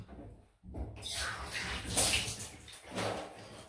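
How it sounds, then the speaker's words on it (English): Water runs and splashes as a Homelike Start DE safety razor is rinsed, a steady broadband gush starting after a short silence and carrying on for a few seconds, close and moderately loud. "Just a quick rinse."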